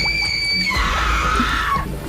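People shriek loudly in fright inside a haunted jungle bungalow, with high sustained screams that shift into a lower wailing cry over a couple of seconds above a steady dark background.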